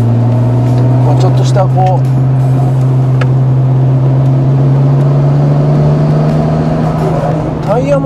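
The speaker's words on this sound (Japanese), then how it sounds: "今回ちょっとあの0-100 ぐらいでちょっと高速乗って 、はい、 走行してみたいなと。" A Nissan Skyline R33 GT-R accelerating on a highway gives a loud, steady engine drone that rises slowly in pitch from inside the car, while people talk over it throughout.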